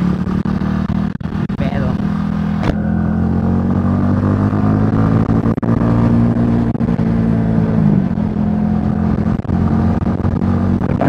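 Street traffic rolls past a riding motorcycle, its own engine humming steadily underneath passing vehicles and wind, with a few sharp clicks and occasional talking over the rumble.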